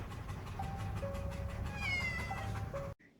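A house cat meows several times in a drawn-out, wavering way, fairly close and loud over a steady background hum, with no talking.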